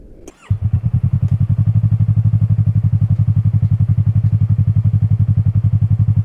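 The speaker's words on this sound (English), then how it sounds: "So that's the bike at idle." A Yamaha YZF-R sport motorcycle with an Akrapovic carbon slip-on exhaust fires up with a brief thump, then settles into a steady, loud, evenly pulsing idle held close by, no voices present.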